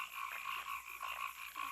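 Pond frogs croak in a steady, dense chorus, a continuous ambient bed of overlapping calls with no voices, used as a background effect in a Dungeons & Dragons game.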